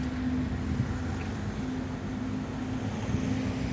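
Background traffic in Khmelnitskyi, Ukraine makes a steady, even rumble and hum with a faint low drone and no distinct passing vehicles, heard alone without talk.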